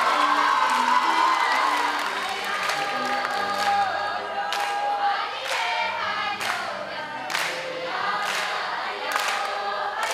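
An audience claps and cheers at a school creative drama competition award ceremony, dense sustained applause with scattered shouts and whoops, some sharper clap bursts near the end.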